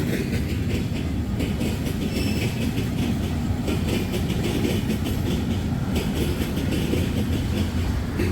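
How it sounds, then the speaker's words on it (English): A heavy freight train with petroleum crude oil tank cars rolls steadily past nearby, a continuous rumble with rhythmic clacking of wheels over rail joints throughout. "must be a big train."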